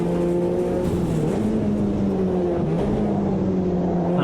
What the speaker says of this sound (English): A lot of gear shifts around here.